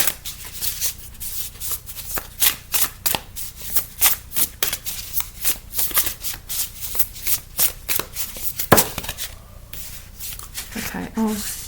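A deck of oracle cards is shuffled over and over in a quick, steady riffling rhythm, close and clear, ending with a few softer handling sounds.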